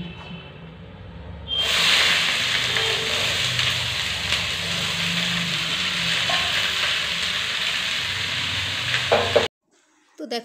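Peanuts and rice fry in oil for a pulao, a loud continuous sizzle that starts suddenly and runs steadily with stirring scrapes, then cuts out near the end.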